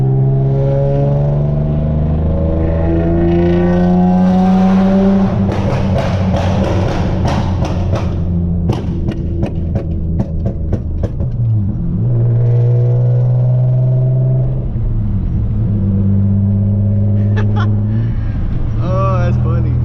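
A Nissan Maxima swapped to a six-speed manual accelerates through a tunnel, its engine note climbing through gears with a loud, echoing roar, a brief lull and a shift, then pulling again, with someone talking over parts of it.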